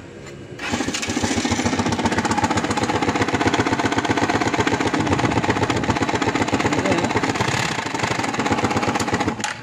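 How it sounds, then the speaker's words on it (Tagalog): A Rusi motorcycle engine with a factory defect runs steadily with a rough, rhythmic grinding clatter, loud and close, with no voices. "Kasi maingay yung makina."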